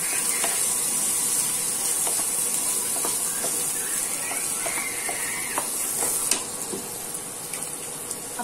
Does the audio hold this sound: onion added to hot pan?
yes